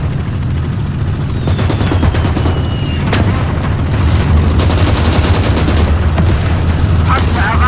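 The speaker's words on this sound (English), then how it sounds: "I'm trying to use my mortars" Mortar fire and gunfire in the World War II strategy game Gates of Hell keep up a dense, continuous battlefield din with sharp reports and low booms throughout.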